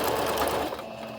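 A Singer Brilliance 6180 sewing machine stitches a buttonhole with a one-step buttonhole foot, giving a loud, close, continuous motor whir and needle rattle that eases slightly toward the end.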